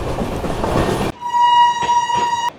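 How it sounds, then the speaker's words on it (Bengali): A passenger train departs Bardhaman Junction. Loud rolling rail noise gives way to a sustained, harmonic horn blast lasting over a second, with clacking wheel noise around it, close and prominent. "এই ছাড়লো বর্ধমান জংশন থেকে আমাদের ট্রেন"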